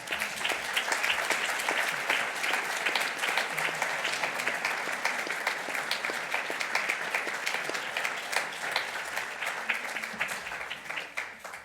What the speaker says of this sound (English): I know we're all tired of clapping